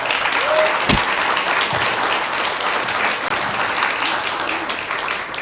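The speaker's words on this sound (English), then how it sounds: "So you deserve recognition and a round of applause." Audience applause fills a white coat ceremony for speech-language pathology graduates, a steady broadband wash of many clapping hands that holds at a fairly even level throughout, with faint cheers and voices mixed in.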